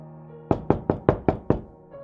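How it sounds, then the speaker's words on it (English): Six sharp, evenly spaced raps on a door, close and loud, with nothing else around them. "Finally, a knock on the door."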